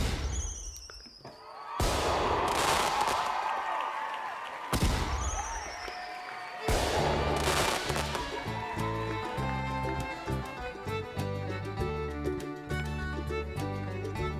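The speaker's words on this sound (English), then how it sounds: "We have to give you the fireworks." Fireworks sound effect on a stock market livestream: sharp booming bursts and crackling explosions repeating several times, loud and close, mixed with synthesized tones and no speech.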